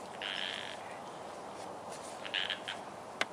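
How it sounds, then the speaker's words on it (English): A frog inside a home kitchen gives short, bright croaking trills in two bursts, faint against a quiet room hiss, with a small sharp click near the end and no speech. "Oh, there's a frog in my kitchen."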